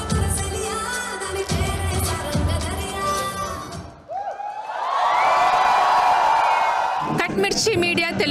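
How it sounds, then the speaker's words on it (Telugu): An audience at a Telugu convention in a Canadian convention center claps and cheers loudly for several seconds after some bangs and speech, a broad swelling crowd roar. "గట్టిగా చప్పట్లు సాగర్ గారికి"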